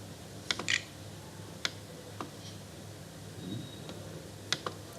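Scattered light keystrokes on a computer keyboard, a few quick clicks at a time with gaps between them, faint against a low steady room hum.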